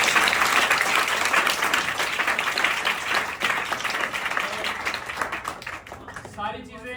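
An audience claps at a legal awareness program held at an institute, dense clapping that thins out toward the end while a speaker talks over it and carries on as the applause fades.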